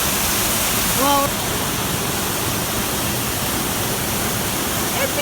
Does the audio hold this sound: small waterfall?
yes